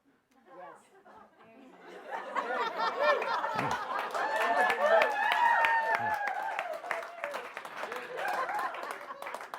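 An audience applauds at a live talk event, clapping that swells from sparse claps into steady, fairly close applause mixed with light chatter and a few chuckles.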